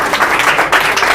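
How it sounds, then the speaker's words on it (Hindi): A brief burst of dense hand-clapping from an audience applauds a student receiving a medal at an awards ceremony, loud and steady throughout. "उनके लिए तालियां।"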